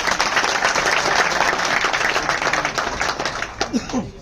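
Audience applause at a meeting in Rajasthan, a sustained burst of many hands clapping close and loud, thinning out toward the end.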